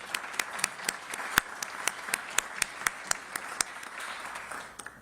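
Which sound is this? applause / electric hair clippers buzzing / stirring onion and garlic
applause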